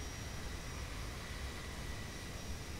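Steady jet airliner engine roar from the Zibo mod Boeing in X-Plane 11 at cruise altitude, a continuous broadband rumble with a faint high whine, even and unbroken throughout.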